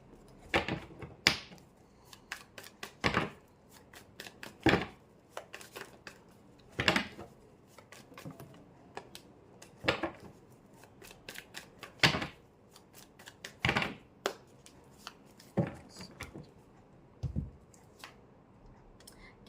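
Tarot cards drawn one by one from a deck during a reading, a series of soft, crisp snaps and slaps of card on card at irregular intervals, close and quiet with no talking.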